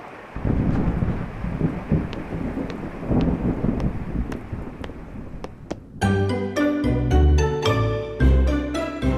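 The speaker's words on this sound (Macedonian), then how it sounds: "Ама надвор врне." Rain and thunder outside in a children's cartoon: a steady, noisy downpour with sharp cracks for about six seconds before music takes over.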